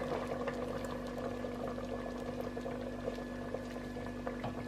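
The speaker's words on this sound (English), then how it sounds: "We're going to put in our coconut milk." Coconut milk pours into a simmering bean and pepper stew, a soft liquid pour over steady bubbling from the pot, close and fairly quiet.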